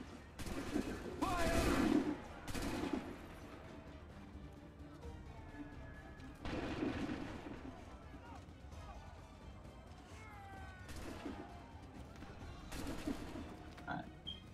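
Cannon and musket volleys in Assassin's Creed III, several loud ragged bursts of gunfire spaced across the clip, each crackling and rolling out over battle noise, with a voice shouting between them.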